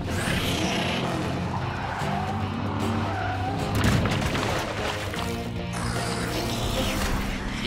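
Hot Wheels cartoon cars racing each other, with sustained engine roar, squealing tire skids and a thudding impact midway, loud and continuous, with busy music-like layers and no clear voices.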